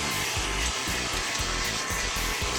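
A direct-to-garment printer printing onto a T-shirt produces a loud, steady whirring hum with a regular pulsing beat as the print carriage moves back and forth.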